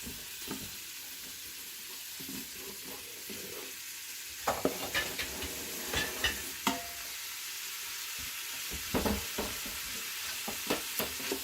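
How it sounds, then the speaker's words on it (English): Meat browning in an Instant Pot for red beans and rice, a faint steady sizzle under intermittent scraping and clinking of a spoon stirring against the pot, with no one speaking. "put the meat in here and saute it, brown it on both sides"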